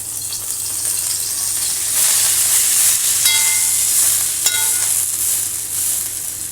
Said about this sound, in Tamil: மல்லியை வதக்கிக்கலாம்.